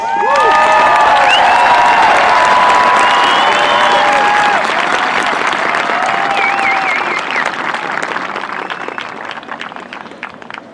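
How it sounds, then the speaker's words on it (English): A large crowd at a Santa Fe High School graduation applauds loudly and steadily, with cheers and whistles on top. The applause slowly fades toward the end. "Let's give him another warm round of applause."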